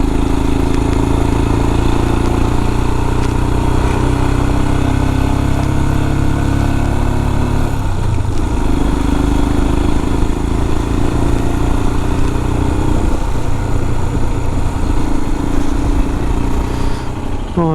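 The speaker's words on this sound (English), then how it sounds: "Can hear the old engine working a bit." An old motorcycle engine labors steadily under load climbing a steep hill, a loud continuous drone with a brief shift in pitch midway.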